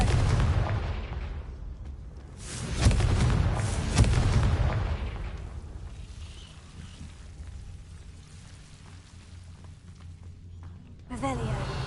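Confringo spell blasts in Hogwarts Legacy boom out in several heavy, rumbling bursts, with a voice calling out spells over the explosions and a sharp crackling effect near the end.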